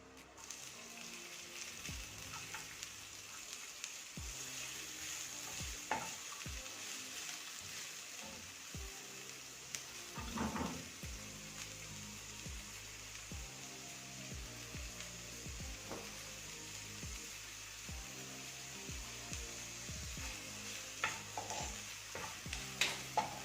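Ingredients for homemade pizza sauce sizzle in a pan as a utensil stirs them, giving repeated scraping clicks over a steady frying hiss, close up and without talk.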